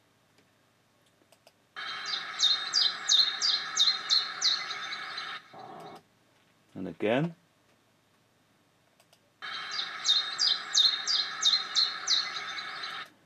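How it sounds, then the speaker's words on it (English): A chiffchaff sings in a park, two loud bursts of rapid repeated notes several seconds apart, with a brief clicking sound between them and a few quiet spoken words. "And that bird is the chiffchaff"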